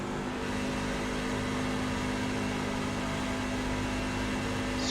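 A NASCAR truck engine in a racing video game drones at a steady, unbroken pitch, loud and constant throughout with a strong hum and no talk.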